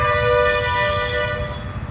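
A train rumbles low and close, with a sustained horn-like tone droning over it for the whole two seconds.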